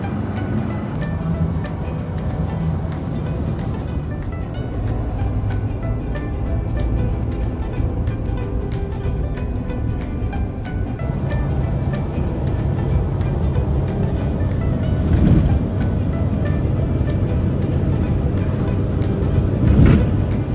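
A car cruises along Seward Highway (Highway 9) in Alaska toward Moose Pass and Cooper Landing, giving a steady, continuous road and engine rumble from inside the vehicle, with a few brief louder bumps.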